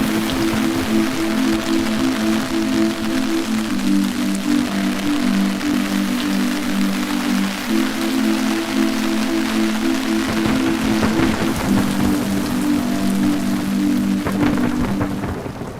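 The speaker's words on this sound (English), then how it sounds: "Today is a rainy day." Heavy rain pours steadily during Japan's rainy season, a dense, loud hiss of drops with low rolling thunder underneath, while a sustained droning musical tone runs through the whole stretch.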